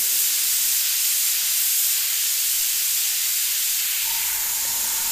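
An airbrush sprays paint onto a stencil as a continuous close, loud airy hiss that dips slightly near the end.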